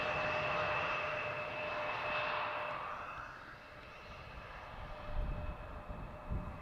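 A KLM Embraer 175 arriving from Stuttgart at Amsterdam Schiphol Airport roars past, a broad steady engine rush that swells early and then slowly fades into a lower rumble, with steady tonal whines running through it.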